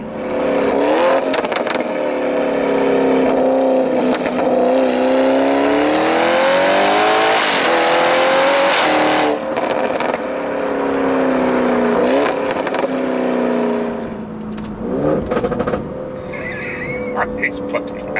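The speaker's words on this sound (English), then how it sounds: "It's such a menacing growl coming from the back of this car." Audi RS6 fitted with an Akrapovic exhaust, a deep growl that rises and falls through repeated revs, loud and close, with someone talking over parts of it.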